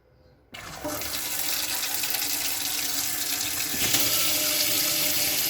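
Water runs from a kitchen faucet fed by a newly installed under-sink filter at about 3.5 bar, starting suddenly and continuing as a steady, close hiss.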